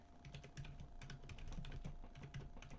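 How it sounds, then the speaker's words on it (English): Rapid typing on a computer keyboard, close and clear, with irregular clusters of light key clicks running steadily and no talk over it. "I'm also not used to typing on a computer."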